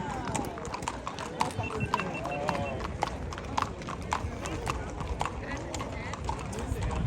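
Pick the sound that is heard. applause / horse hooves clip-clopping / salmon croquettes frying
horse hooves clip-clopping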